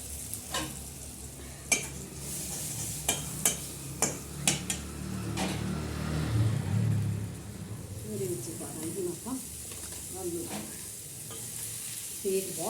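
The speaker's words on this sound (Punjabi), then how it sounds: "ਇਹਦੇ ਵਿੱਚ ਕੱਟ ਕੇ ਪਾ ਦਾਂਗੇ ਹੁਣ ਆਪਾਂ ਟਮਾਟਰ" Chopped tomatoes sizzle in a pan over a clay stove, a steady frying hiss with sharp ticks of stirring and utensil knocks, while someone talks over it.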